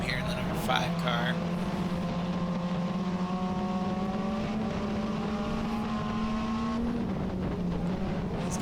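The number 5 dirt track race car at Montpelier Motor Speedway roars past, its engine note climbing and falling in a sustained drone under steady crowd and track noise.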